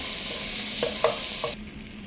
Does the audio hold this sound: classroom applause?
no